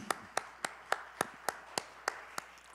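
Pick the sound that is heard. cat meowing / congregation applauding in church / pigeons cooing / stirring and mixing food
congregation applauding in church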